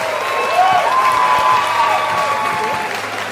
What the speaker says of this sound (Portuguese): palmas pra ele